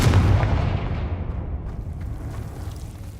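A Confringo spell explosion in a Harry Potter video game set at Hogwarts: one loud, deep boom hits at the start and fades into a rumbling tail over about three seconds, with no voice.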